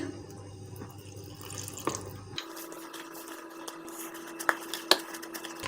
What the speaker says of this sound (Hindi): पानी और ऐड करेंगे।